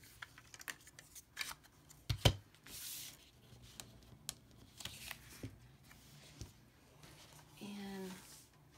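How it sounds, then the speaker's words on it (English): A circle punch cuts paper circles, giving quiet sharp clicks and crunches, one more pronounced, amid faint paper rustling, with a brief voice near the end. "So I'm going to take my circle punch, any size you want."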